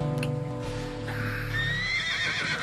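A horse being trained for classical dressage gives a loud, near whinny that rises and wavers for about two seconds over a low steady background.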